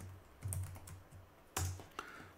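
A computer keyboard is tapped to type a save-and-quit command in a text editor, a few sharp, separate keystrokes spread over two seconds with quiet room hum between them.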